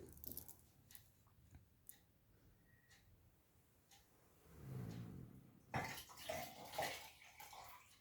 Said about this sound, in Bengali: জলটাকে আমি ডিসপোজ করব অবভিয়াসলি